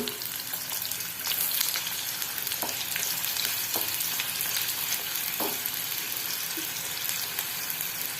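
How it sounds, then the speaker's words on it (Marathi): Sliced onions fry in hot oil for a Marathi brown gravy, making a dense, steady sizzle and crackle throughout, with a few faint utensil taps and stirring sounds close by. "तेल आता गरम झालेलं आहे आणि आता आपण स्लाइस तळून घेणार आहोत कांद्याच्या"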